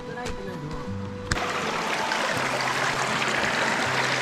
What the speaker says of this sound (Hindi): ये पानी की नदी बह रही है माशाल्लाह, बड़ा साफ़ पानी है